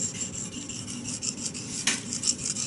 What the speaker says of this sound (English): Now I'm sharpening the edge.